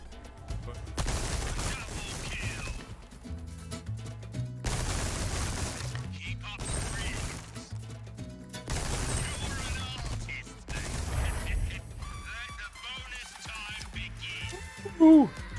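Repeated bursts of gunfire and shattering targets at a pirate-themed shooting gallery in the Resident Evil 4 Remake video game, coming in clustered volleys with brief gaps and someone talking in between.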